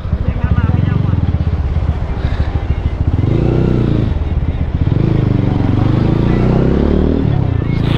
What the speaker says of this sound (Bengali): দুইটা বাইক।